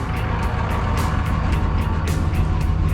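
A Ford F100 truck idles and drives with a low, steady engine rumble, with a regular series of short, clicking pulses repeating over the top.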